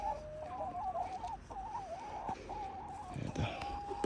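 Backyard chickens, including a Black Bonanza hen, cluck and call in their coop during morning egg collection, with a steady run of close, overlapping clucks and a few sharper squawks.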